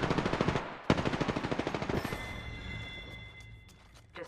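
Rapid automatic gunfire in the battle royale video game Apex Legends: two loud, fast bursts of shots, then a ringing, fading tail and quieter game sounds.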